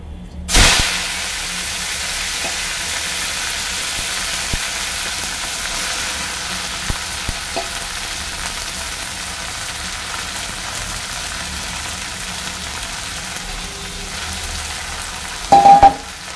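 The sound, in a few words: black cumin and greens frying in hot oil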